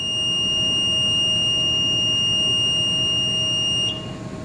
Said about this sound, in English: Anytime that RFID tag is in the center of the reader, it will alarm.